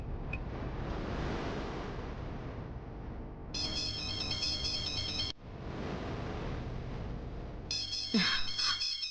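A phone ringtone plays a repeating melodic tone in two bursts over a windy, rushing background, with a brief pause between rings.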